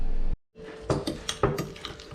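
Metal utensil scraping and clinking in a bowl while garlic butter paste is mixed for a campfire mud crab cook-up, a few sharp knocks after a brief silent gap, close and moderately loud.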